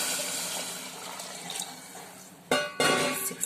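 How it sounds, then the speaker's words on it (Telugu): Water splashes into a pressure cooker pot for rice, six cups added in a few soft pours, with two louder, brief gushes near the end. No one speaks. "దానికి సిక్స్ కప్స్ వాటర్ యాడ్ చేస్తున్నాను"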